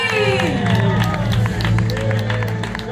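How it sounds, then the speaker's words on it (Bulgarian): Applause and crowd cheering at a Mister and Miss Montana 2023 pageant as winners are announced, loud and continuous, with music tones and voices running underneath. "Аплодисменти!"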